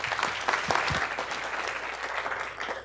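An audience at a talk on long COVID research claps steadily to welcome the next speaker, a dense, even patter of many hands sustained for the whole stretch without voices.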